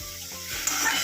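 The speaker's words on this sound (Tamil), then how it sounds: "நம்ம நறுக்கி வச்சுருக்க வெங்காயம், கருவேப்பிலையை ஃபஸ்ட்டு வதக்குவோம்" Chopped onions and curry leaves sauté in a hot kadai, a steady close sizzle that rises midway as they hit the oil, with faint stirring.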